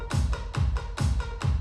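A sustained synth is chopped on and off by a gate plugin in a fast, even rhythm, each pulse cutting off sharply, loud and close.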